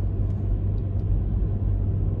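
A Mercedes A180 CDI with a CVT gearbox driving on the road, heard from inside as a steady low engine and road rumble that stays even throughout, with no voices.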